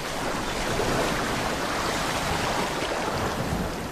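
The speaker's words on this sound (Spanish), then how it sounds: "El estrépito del agua al retirarse los búfalos tiene un nuevo significado para ella." Water splashing and churning as buffalo retreat through it, a dense, loud, continuous wash of noise with no distinct individual splashes.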